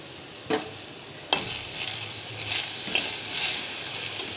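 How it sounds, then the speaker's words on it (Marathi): Mung bean seeds dry roasting in a pan give a soft continuous rustle with a few sharp scraping strokes as they are stirred, close and moderately quiet, with no talk. "तर आपण आता हे भाजून घेऊया थोडेसेच भाजायचे फार नाही भाजायचे"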